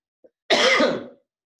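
A single brief, hoarse cough comes from a presenter during an online talk on publishing research papers. It is one close, sharp burst in quiet surroundings, with no speech around it.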